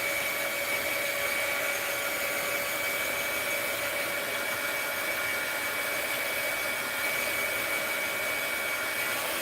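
A hair dryer blows steadily and loudly on walnut ink in an art journal, a constant whooshing hum with no breaks and no talking.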